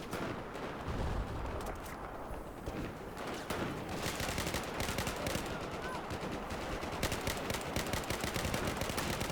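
Dense, rapid gunfire from Battlefield 4 in hardcore mode, continuous bursts overlapping like automatic weapons, loud and sustained throughout.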